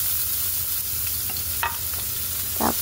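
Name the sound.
onion frying in a pan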